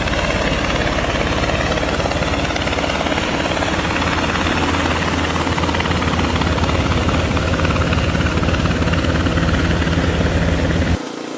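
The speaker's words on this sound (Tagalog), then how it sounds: "May helicopter na naman mga guys." A helicopter's rotor thrum and engine roar fill the air steadily overhead, loud and continuous for about eleven seconds before cutting off abruptly, with no talking.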